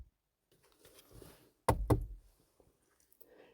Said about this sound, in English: they almost didn't hear the knock on the door